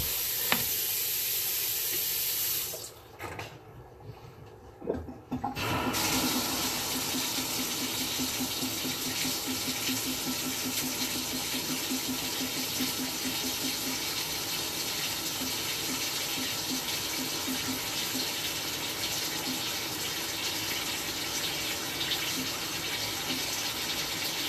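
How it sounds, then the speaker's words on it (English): Water from a bathtub tap runs steadily through a house sewer pipe, a continuous rushing wash that drops out briefly near the start and then resumes evenly at a close, constant level. "I'm going to turn the tub on."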